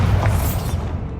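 Bombarda spell explosion in Hogwarts Legacy, a loud, deep booming blast with a rumbling low end that fades out over about a second.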